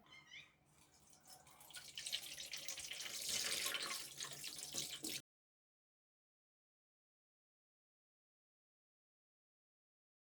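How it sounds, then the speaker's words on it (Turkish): Homemade apple cider vinegar strains through cheesecloth laid over a colander into a basin, a steady splashing stream running for about five seconds before cutting off to silence. "Üzerine de bir tülbent örtüyorum ve buradan süzme işlemine geçiyorum."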